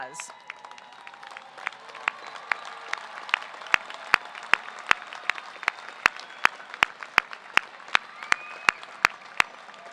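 Applause for graduating academic and special honors students at a university commencement, a soft crowd patter with a few loud, sharp individual claps standing out in a steady rhythm near the microphone.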